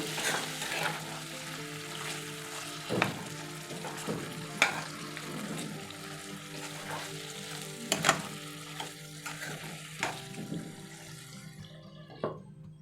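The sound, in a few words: chicken cooking in a covered pan, frying and sizzling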